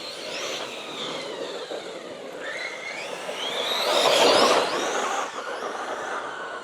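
A RedCat Valkyrie MT 4S radio-controlled monster truck running after a front suspension fix, its electric motor whining steadily and swelling louder midway as it rips past, at moderate distance.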